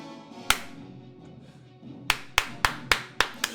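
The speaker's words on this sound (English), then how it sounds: "Guess no one wanted to clap for you. I guess I have to." A lone person claps once, then after a pause claps six more times in a steady, fairly quick rhythm; sharp, close, dry hand claps with nothing else around them.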